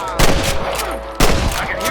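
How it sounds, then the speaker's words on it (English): Two loud, sharp gunshots in the video game Red Dead Redemption (2010), about a second apart, each followed by a short ringing decay. "I can hear more gunshots."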